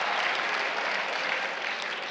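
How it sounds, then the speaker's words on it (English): A high-school basketball crowd stands and applauds in a gym during a late-game timeout, giving steady, dense clapping that stays fairly even from start to finish. "The Beverly faithful are on their feet applauding."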